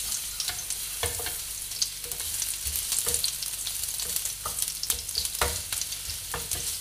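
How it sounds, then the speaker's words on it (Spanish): Chopped garlic sizzles and crackles in hot oil for a Spanish nettle omelette, with steady frying hiss and repeated scraping knocks of a utensil stirring it in the pan; no voices. "cuando el aceite esté un poquito caliente ya, le echamos el ajo. Y lo movemos un poquito."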